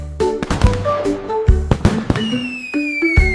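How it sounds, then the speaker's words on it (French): Cartoon fireworks in a children's animated nursery-rhyme song burst in a rapid series of sharp pops and crackles, mixed with rising and falling whistles and a long descending tone, loud and close. "Les feux d'artifice de Jack ont illuminé la voie lactée."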